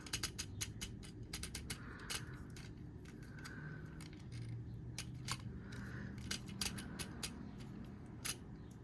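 A toy action figure's ratcheting arm joint gives bursts of small dry clicks, some quick and clustered, others spaced out, close but quiet over a low background rumble.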